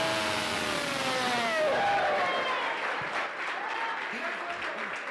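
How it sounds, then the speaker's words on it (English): An audience at a live gathering applauds as a latecomer arrives, a steady wash of clapping that carries on for several seconds with voices and cheers mixed in. "Let's give her a big round of applause when she gets in here."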